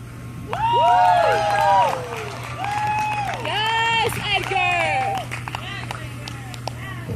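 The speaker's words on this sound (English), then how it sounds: "Everybody clap it up for Edgar one more time." Audience at a youth spoken-word poetry event cheers and applauds for the poet Edgar, loud whoops and shouts rising over steady clapping, then easing slightly toward the end.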